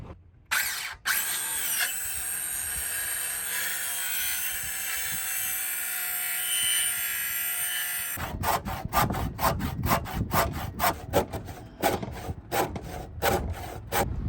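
A saw cuts through wooden boards, with a steady rasping buzz for several seconds, then a quick run of rhythmic back-and-forth strokes that keeps going to the end, close and fairly loud.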